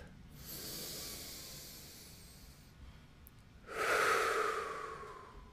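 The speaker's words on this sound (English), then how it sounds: "Let's take a deep breath." Slow, deep breathing from a guided group: a long airy inhale, a pause, then a louder, breathy exhale that fades out gradually, with no talking.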